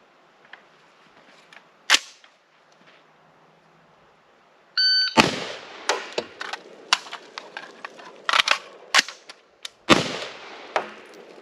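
A rifle is fired from the low ready in a low-round-count drill with a reload. A timer beep is followed by a string of sharp, close cracks and mechanical clicks spread over several seconds. No talking.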